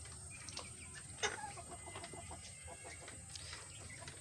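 Chickens, including young chicks, cluck faintly in a village yard, soft scattered calls at a distance over quiet background.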